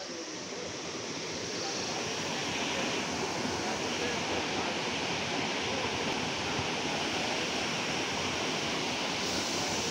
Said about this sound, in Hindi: यहाँ पूरा वाटरफॉल है